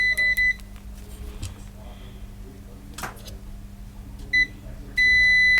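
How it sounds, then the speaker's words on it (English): A multimeter's continuity beeps sound in separate bursts while ground points on a Sony SA-CT290 sound bar are checked, a few quick pulses at the start, another near the end, then a sustained tone, amid quiet handling noise. "Okay, they are beeping."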